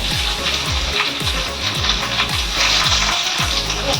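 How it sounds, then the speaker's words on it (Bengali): Cauliflower frying in hot oil sizzles loudly and steadily up close, with a regular rhythm of low thumps as the pieces are stirred or turned in the pan. "প্রথমে হচ্ছে ফুলকপি ভাজা।"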